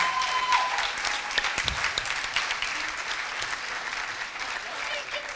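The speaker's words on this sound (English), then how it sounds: "Give them a round of applause." A gala crowd at a Boys and Girls Club event applauds as speakers come up to the stage, with steady, sustained clapping and a few louder individual claps and cheers mixed in.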